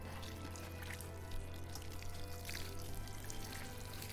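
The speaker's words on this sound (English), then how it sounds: "And then you just give it a water." Water is poured from a container onto potted pea and bean plants, a steady, fairly close splashing trickle that runs unbroken throughout with a low hum beneath and no talking.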